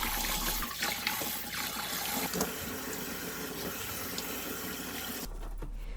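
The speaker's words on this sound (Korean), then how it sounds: "소금물에 데쳐낸 취나물은 곧바로 찬물에 3, 4번 헹궈서 열기를 식혀주세요." Blanched chwinamul greens are rinsed under cold running water in a sink, a steady rush of tap water with splashing throughout that cuts off abruptly near the end.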